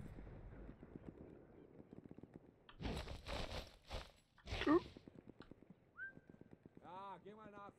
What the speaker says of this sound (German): Ich hab gepfiffen.